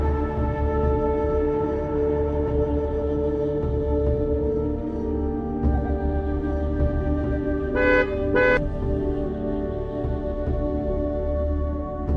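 A car horn gives two short honks over the steady drone of a car engine and road noise, heard at a parking lot while camping, loud and nearby.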